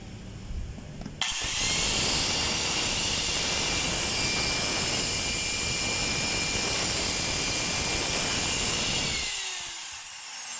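A repaired DeWalt DW830 5-inch angle grinder switches on after about a second and runs loud and steady with a high whine, winding down near the end.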